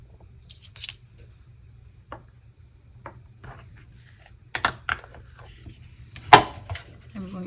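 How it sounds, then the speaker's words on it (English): A rubber stamp presses antenna images onto a paper card, making a few soft, close taps and thumps scattered over a quiet background with a faint low hum. "So I'm going to stamp these here."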